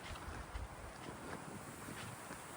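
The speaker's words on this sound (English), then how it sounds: "It's a lot nicer having the wind at our backs." Steady wind gusts rush across the microphone on an open desert hiking trail along a wash, a constant broadband roar with no voices.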